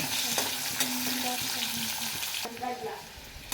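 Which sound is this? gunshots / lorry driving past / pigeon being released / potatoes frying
potatoes frying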